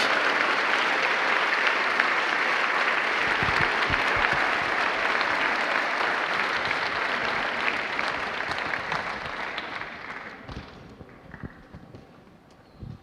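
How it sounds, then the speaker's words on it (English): Student athletes at a scholars' recognition ceremony give parents a long round of applause, a dense, steady roar of clapping from a large crowd that slowly thins and fades out toward the end. "I'd like for the student athletes to give them a round of applause"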